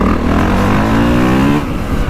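A 2025 Honda CRF450R motocross bike on a dirt track at RT62MX revs hard, its loud, close engine climbing in pitch before briefly easing off.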